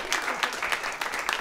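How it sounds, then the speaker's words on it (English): A brief burst of applause from a live studio audience on a rhyming TV show, a close, lively patter of many hands clapping for just over a second. "So make a round of applause for the live studio audience."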